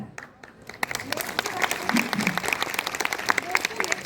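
An audience claps steadily, a dense patter of many hands that builds after a brief quiet start and continues throughout, with a voice faintly audible underneath.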